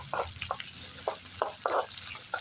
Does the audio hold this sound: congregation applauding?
no